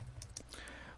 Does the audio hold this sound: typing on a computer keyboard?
yes